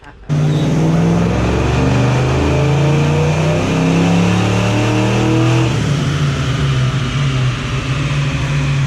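A Ford 302 V8 with Trickflow heads, cam and intake revving hard on a dyno, a loud sustained roar climbing in pitch, then dropping and settling into a rougher, lower note near the end.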